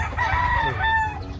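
A white kelso gamefowl rooster crows on a Batangas farm, one loud, close drawn-out cock-a-doodle-doo over a low background rumble.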